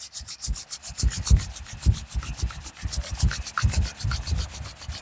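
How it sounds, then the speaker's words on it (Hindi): Palms rubbed briskly together at the close of a yoga practice, a rapid run of dry, rasping swishes repeating steadily and close for several seconds with no talk. "Rub your palm."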